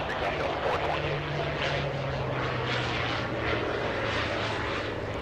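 A Surf Air propeller plane operated by Advanced Air arrives at Los Angeles International Airport, its steady droning engine and prop hum loud and continuous, with a slowly falling tone across the pass.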